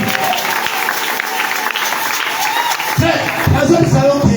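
A church congregation breaks into steady applause for Jesus during a sermon, a continuous wash of clapping with a voice speaking over it near the end.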